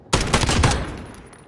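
Call of Duty gunfire on PS5, a sudden loud burst of rapid shots fired in quick succession that fades into a short rumbling tail, close and alone.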